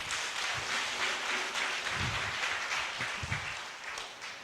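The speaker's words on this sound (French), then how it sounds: "Acclamez le Dieu de Naomi." A church congregation applauding steadily, a dense, even wash of clapping hands that carries on throughout, with a few louder low thumps mixed in.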